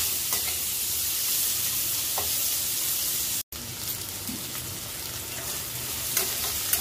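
Onions sizzle steadily in a pan with asafoetida, frying toward light golden, with occasional stirring scrapes; a continuous close crackle with a brief dropout midway and no talk.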